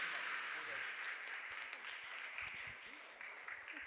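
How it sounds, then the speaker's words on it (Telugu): Applause from the congregation for the priests at the close of a Mass on the ninth day of a novena at a Marian church, a dense wash of clapping that stays steady for a few seconds and then eases slightly. "మరొక్కసారి వారికి మన అందరి తరపున చప్పట్లు కొడదాం"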